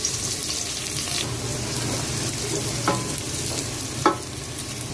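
Ginger, garlic and onion sauté in oil for arroz caldo, a dense, even sizzle with a few sharp clinks of a utensil against the pan, with no speech.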